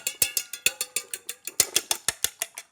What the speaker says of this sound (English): We'll whisk those 2 eggs together.